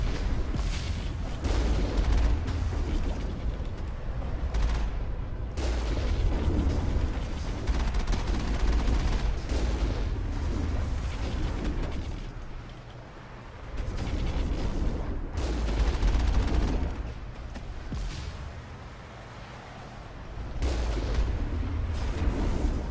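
Video game Mass Effect gunfire during strafing combat: heavy, sustained bursts of shots and booms roll continuously, briefly easing around the middle before resuming, with no talk.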